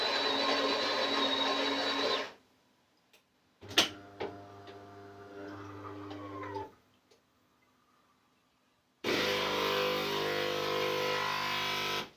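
A De'Longhi ESAM04 110 S bean-to-cup coffee machine brews a coffee in loud bursts of grinding and pumping hum, separated by quiet pauses with faint clicks.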